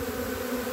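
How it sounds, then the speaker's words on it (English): A swarm of thousands of bees hums as a close, steady drone, continuous and even for the whole short moment with no voices. "there's so many bees right here"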